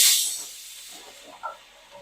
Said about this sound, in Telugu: మధ్య మధ్యలో ఈ కుక్కర్ నాయిస్ వస్తుంది